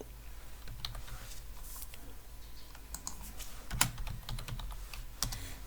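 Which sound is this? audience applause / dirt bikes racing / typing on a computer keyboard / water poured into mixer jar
typing on a computer keyboard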